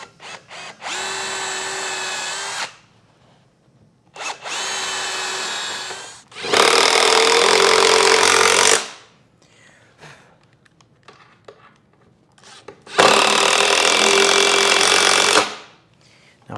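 A power drill drives 2-inch lag screws into layered wood in four loud, steady bursts of a few seconds each, separated by quiet pauses, close up with no talking.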